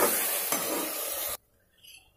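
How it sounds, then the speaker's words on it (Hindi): Spices and potato fry in a pan, a loud, close hiss of sizzling for over a second that then cuts off abruptly to near silence. "इनको डालकर भी भून लेंगे मसालों का कच्चापन निकलने तक।"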